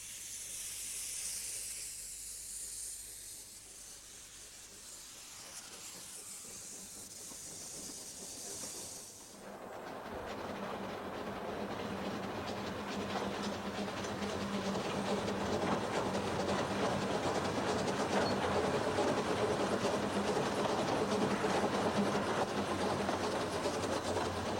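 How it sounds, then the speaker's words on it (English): A steam train departs a station near Snowdon in Wales, opening with loud hissing steam, then settling into a steady rumble and rhythmic rolling clatter of wheels that grows fuller as it moves off. "Departing the station amidst clouds of steam, Snowdon rising in the background, the train runs down the yard between ever-heightening slate waste tips."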